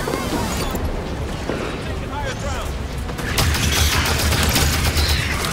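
Gunfire in the shooter Halo 5 Guardians: dense, rapid shots rattling throughout, growing heavier and louder in the second half, mixed with a booming low end.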